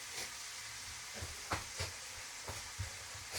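Shrimp sizzle steadily in a nonstick frying pan, a soft continuous frying hiss broken by a few brief spatters and stirring taps, heard alone with no talking.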